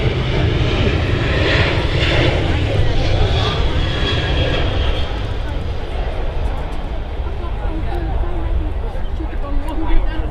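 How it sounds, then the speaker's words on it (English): A Ryanair Boeing 737-800 bound for Dublin roars down the runway on its takeoff roll at Manchester Airport, a loud, continuous jet rumble with voices heard underneath. "Just on the roll there is the Ryanair 737-800 on its way to Dublin."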